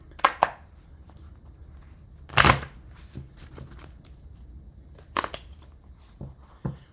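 A tarot deck is shuffled in short separate bursts, crisp riffling sweeps and soft card slaps close by, with quiet pauses between them.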